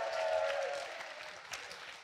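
Applause from a conference audience, a steady soft patter of many hands at a distance that fades gradually over about two seconds.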